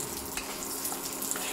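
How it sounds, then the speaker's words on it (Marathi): Almonds fry in ghee with a soft, continuous crackling sizzle, steady and close, heard briefly on its own. "तुपात तळून घ्यायचं थोडं."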